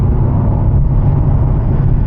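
Mercedes-AMG SL with a V8 engine in manual mode, a loud, close, steady low rumble of the engine running throughout with no talk.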